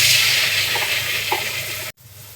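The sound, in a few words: chopped onions frying in hot oil in a wok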